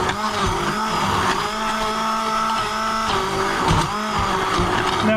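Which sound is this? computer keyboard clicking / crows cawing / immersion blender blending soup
immersion blender blending soup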